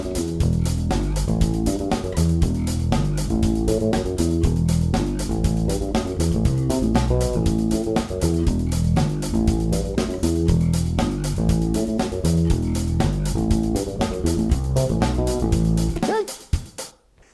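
Bass guitar playing a riff at 119 bpm along with the full backing track, a busy steady groove with drums that stops abruptly near the end.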